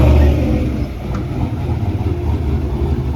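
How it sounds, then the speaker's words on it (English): Turbocharged 1993 Ford Mustang Fox Body Cobra replica engine running nearby, a loud rough idle with a brief dip and pulsing low rumble, no talking. "I hear somebody out here with one of the Mustangs."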